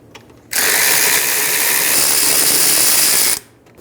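Ratchet with a 14mm socket breaking loose caliper bracket bolts on a 2010-2014 Subaru Outback, a loud, fast, continuous ratcheting whir lasting about three seconds, close up and alone.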